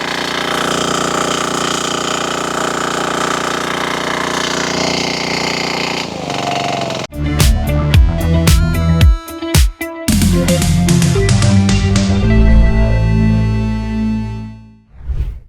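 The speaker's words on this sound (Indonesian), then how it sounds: "ini mesin diesel ya yang lumayan besar" A large diesel water pump engine, a FDWP30 in a rice field, runs loudly and steadily, then revs up to full throttle into a harsher, rattling roar with a dense, rhythmic chugging that stays close and heavy throughout.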